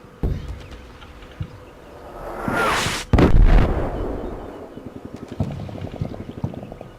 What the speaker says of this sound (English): And here comes some mortar spotting rounds, and I have no idea where they're coming from.